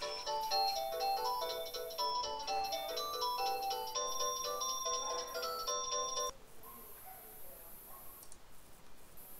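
A home telephone rings in a repeating electronic melodic pattern for about six seconds, faint in the room background, then stops, leaving quiet room noise.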